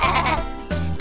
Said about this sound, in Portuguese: As ovelhas no trator fazem mé, mé, mé